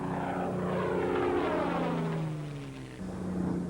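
Hawker Hurricane PZ865, the last of 14,500 built, a propeller fighter, drones past at an air display with a steady loud engine roar whose pitch slides downward as it passes, then levels off.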